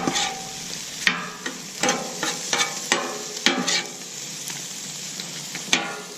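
Shrimp cooking on a Camp Chef flat top griddle, a close, steady sizzle punctuated by spatula scrapes and stirs against the steel surface, with no voices.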